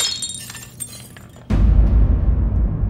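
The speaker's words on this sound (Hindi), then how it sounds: "वो कांच का ग्लास पड़ा था पानी का, वो हमारे हाथ से ऐसे गिर गया, वो टूट गया" A glass water tumbler dropped and shattering indoors: a sudden loud crash of breaking glass halfway through, following quieter background sounds, with the debris noise lingering afterward.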